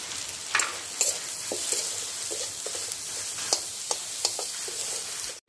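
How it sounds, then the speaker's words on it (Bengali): Chopped onions and green chillies with a pinch of salt fry in a pan, a continuous moderate sizzle broken by several sharp spatula clacks and scrapes. "এবার এর মধ্যে দিয়ে দেবো পেঁয়াজ কুচিগুলো, দিয়ে হালকা একটু নুন দিয়ে দেবো, দিয়ে খুব সুন্দর করে ভাজা ভাজা করে নেবো"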